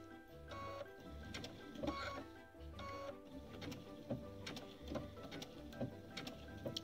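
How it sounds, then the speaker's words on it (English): A sewing machine stitches along a line on a quilted Dresden Plate flower block, running in short, quiet bursts of rapid mechanical whirring and ticking that stop and restart, with no talking. "I'm just trying to stitch over that line, making sure that that line's in the center"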